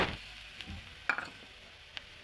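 Carrots and sugar stirred in a pan for carrot halwa give a soft sizzle with a few light scraping taps of the spoon, faint and brief.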